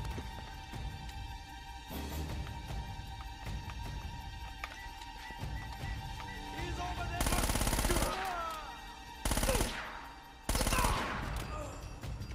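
Submachine gun fire from the video game Uncharted: Drake's Fortune comes in rapid bursts, a few of them loud and sustained, over a busy background of game sound.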